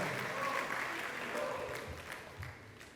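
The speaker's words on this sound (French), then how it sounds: "Le groupe Amadla, s'il vous plaît, que je vous prie d'applaudir très, mais très très très très fort" An awards-show audience claps for the reggae trio Amadla, producing a dense, steady wash of applause that thins slightly toward the end, with faint crowd voices underneath.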